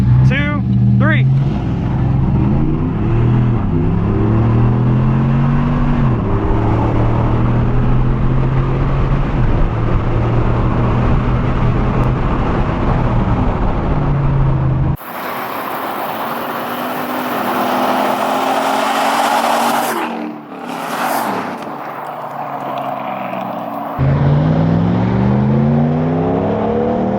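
Ram pickup trucks with custom and canned tunes race side by side on a narrow road, engines loud and accelerating in rising sweeps, with a break of wind-buffeted cabin noise midway before the revving returns.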